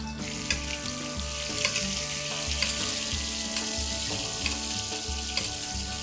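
Grass-fed beef steak searing in a hot skillet over medium-high heat, a steady loud sizzle and crackle with occasional sharper pops, close and continuous with no voices.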